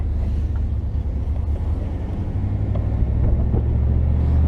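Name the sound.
car engine running while driving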